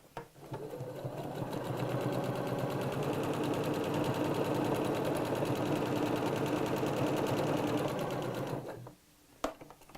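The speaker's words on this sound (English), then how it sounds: "Then back over to your sewing machine." A sewing machine stitches around pocket and lining fabric pieces of a zip pouch continuously at a steady rapid pace for several seconds, close and fairly loud, then stops with a couple of clicks.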